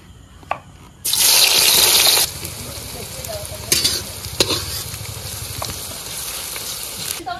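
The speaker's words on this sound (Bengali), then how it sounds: "তেল গরম হয়ে গেছে, পেঁয়াজের বেরেস্তাটা করে নেব" Sliced onions frying in hot sunflower oil for a biryani-style chicken dish, with a loud burst of sizzling at the start that settles into a steady crackle, punctuated by sharp clinks of a stirring utensil against the pan.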